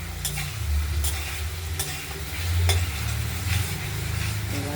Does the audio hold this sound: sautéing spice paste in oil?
yes